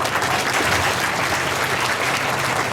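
Steady, dense applause from a seated audience at a Brahmin community honour ceremony held in a park, loud and continuous throughout with no talk over it.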